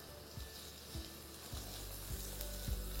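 Thinly sliced potatoes sizzle steadily in a hot pan for an egg and potato dish, with a close, continuous hiss and a few soft periodic thumps from stirring.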